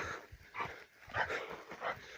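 Dogs yelp and whimper in short bursts at a moderate distance while chasing something in wild terrain, several cries spaced irregularly over a faint outdoor background.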